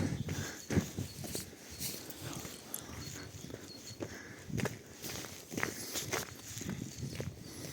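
Footsteps walk outdoors at a resort in winter at about zero degrees, a steady crunching rhythm of close, irregular steps over several seconds with no speech.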